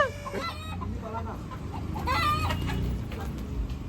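Kadaknath chickens cluck and squawk in short, agitated bursts while being grabbed, nearby and moderately loud, over a low background hum with a faint voice.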